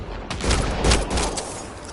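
A short, close volley of gunshots in the video game Mass Effect Andromeda, with several rapid cracks over a rumbling low background.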